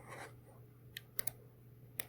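Typing on a computer keyboard while entering a value into a Java program in the Eclipse debugger: a few isolated, faint key clicks spaced irregularly over a steady low hum, no voices.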